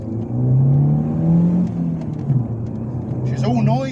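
A Mk4 VW Golf GTI with the 2.0-litre 8-valve engine accelerates, its engine note climbing through the revs and dipping at a gear change, close and fairly loud, with a person talking over it.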